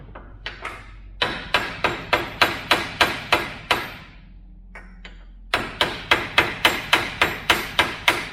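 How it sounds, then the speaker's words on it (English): A hammer striking a metal tab on a disk brake conversion kit for a 1970 Charger, two runs of rapid, sharp, evenly spaced ringing blows, loud and close, separated by a short pause. "you hit that with a hammer and bend it down"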